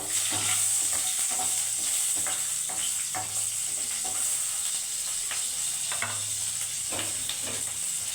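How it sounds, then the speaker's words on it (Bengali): Green chillies frying with onion and tomato in oil over a lowered gas flame, a steady close sizzle and hiss with repeated scraping strokes of a spoon stirring through the pan, no voices. "এবারে কাঁচা লঙ্কা দিয়ে দিচ্ছি।"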